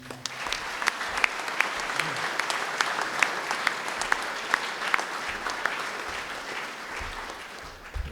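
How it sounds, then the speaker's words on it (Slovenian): An audience at a tamburica ensemble's 30th anniversary concert claps steadily, a dense, even applause that carries on for several seconds without pause. "Vseeno ji zaploskajmo."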